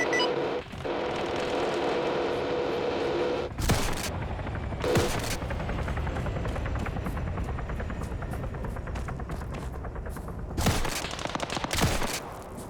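Minigun fire in the Vietnam War game Rising Storm Vietnam rattles in continuous dense bursts over a helicopter's throbbing rotor drone, with several sharp loud blasts cutting through.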